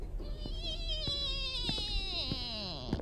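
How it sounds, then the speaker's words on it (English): Shrill, sustained insect-like whine with wavering tonal bands, heard in the horror video game The Ghost Train, a cicada call squeaking and shrieking steadily for three seconds, with sharp clicks punctuating it at intervals. "That's how a cicada sounds to me. It's like squeaking, like shrieking."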